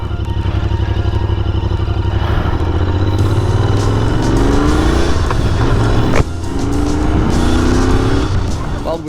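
A Royal Enfield Continental GT 650 twin-cylinder motorcycle being ridden, its engine a loud, steady, smooth drone throughout, with the pitch rising and falling through gear changes and a brief dip at one shift.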